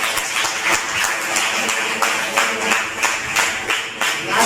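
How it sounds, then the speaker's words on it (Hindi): An audience claps together in a full, steady round of applause, a dense even patter of many hands at close range with no voices over it. "इसके लिए ताली बजाना दो।"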